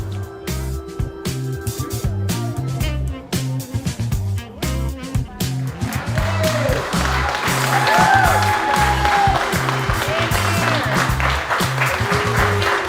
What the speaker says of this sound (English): Everyone applause for a food review.